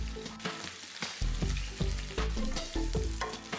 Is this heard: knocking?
no